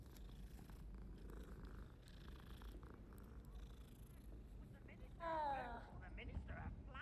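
A cat purrs with a steady, close, low rumble throughout, and a voice chimes in briefly near the end.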